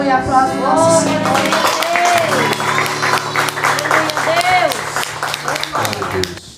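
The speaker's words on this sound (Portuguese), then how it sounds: "Aleluia, aplaude nosso Senhor." A church congregation applauds during a worship service, with clapping under loud sustained music and singing, the hands blending into the dense sound throughout.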